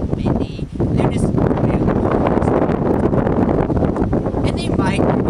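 Gusty wind roars and buffets the microphone almost continuously, with brief lulls and faint voices underneath.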